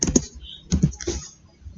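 Computer-keyboard typing as a terminal command is entered to configure SSH on a VirtualBox remote server: a short, uneven run of close, crisp keystrokes with brief pauses between clusters.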